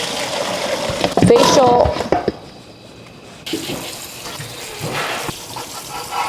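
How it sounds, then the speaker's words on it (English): Water gushes from a tap in a loud burst, then settles into softer running and splashing as parboiled beef and pork bones are rinsed under cold water, with a brief spoken word. "you're gonna rinse and drain this under cold water"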